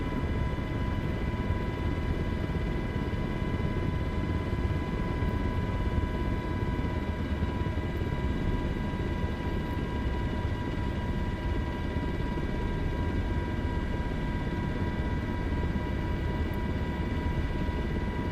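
A helicopter flying near Dubai makes a loud, steady, droning rotor and engine roar with a constant whine that fills the whole stretch without a break.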